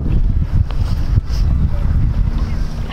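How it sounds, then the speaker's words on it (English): Strong wind blowing straight in across open water at a fishing match final, a loud, steady roar of gusts buffeting the microphone with no break. "He's got the wind blowing straight in"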